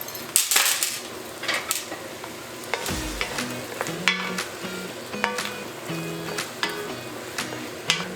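Gumbo with shrimp simmers and sizzles steadily in a very hot pot on a stovetop, with a continuous frying hiss, intermittent stirring scrapes and scattered metallic clinks of utensils against the pot, close and moderately loud.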